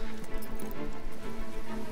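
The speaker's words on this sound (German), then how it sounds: "Und es regnet." Rain falls in the video game Fable 3 as a steady close patter of drops with a low hum running beneath it.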